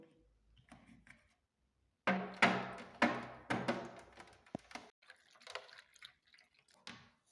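Water drips and splashes irregularly in short bursts while hands are washed with soap, close and fairly soft, with quiet gaps between the splashes.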